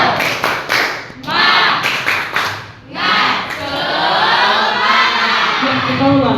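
A classroom of students does a rhythmic clapping ice-breaker chant, sharp patterned claps in quick bursts and then loud group shouting and cheering, close and energetic.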